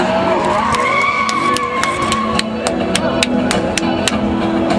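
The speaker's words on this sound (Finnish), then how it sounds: "JP poltti just äsken tässä rengasta ja haluais polttaa lisää" Tires squeal and skid during a car burnout at Bimmerparty 2013, a BMW enthusiast event; a loud, continuous screech with sharp crackling pops runs the whole time, and faint voices sit underneath.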